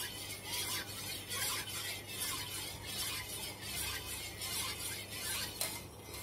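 Milk being stirred by hand in a bowl or pot to make homemade dahi yogurt, a soft continuous swishing and scraping with a faint rhythmic pulse, close and quiet, with no talking.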